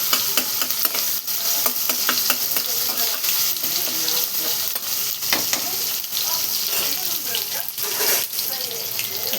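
Tomato cooks in a kadhai for pav bhaji, a steady sizzle with scraping stir strokes throughout, close and continuous with no talking.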